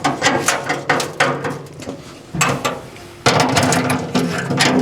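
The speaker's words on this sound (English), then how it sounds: "I'm just going to use a large screwdriver just to crank them in." A large screwdriver cranks screws into a Recteq Deck Boss 800 pellet grill during assembly, giving repeated scraping, ratcheting turns in uneven bursts, close and fairly loud, with no talking.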